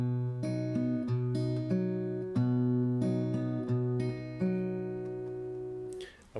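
Fingerstyle guitar playing a song slowly, with plucked notes and chords ringing out clearly in a steady, unhurried rhythm, heard alone with no voices.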